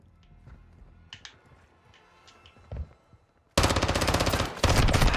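Automatic gunfire in a video game: a few scattered single shots, then a sudden loud sustained burst of rapid fire that continues to the end.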